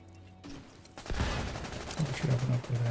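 Pistol gunfire in a first-person video game, a few sharp shots in a busy fight with dense game noise and a low droning tone underneath, fairly loud and close.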